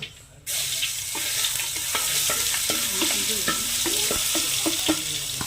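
Ginger garlic paste dropped into hot oil in a pan for a fish curry, starting with a sudden loud burst of sizzling that holds steady while a spoon taps and scrapes repeatedly, close up with no talking.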